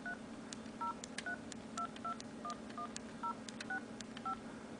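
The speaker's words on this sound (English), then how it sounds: "So dial that number up there, and there is your outgoing call screen." A BlackBerry Curve 8300 dials a phone number with a quick series of about a dozen short DTMF key tones in an irregular rhythm, clear and close over a steady low hum.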